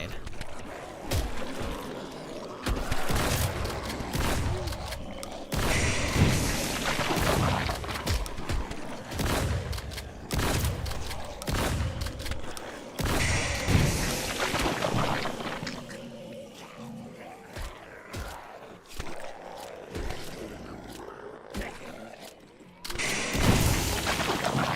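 Grenade blasts and gunfire in the zombie survival game HumanitZ, a series of loud booms and crackling bursts spread through a noisy battle, with someone talking over much of it.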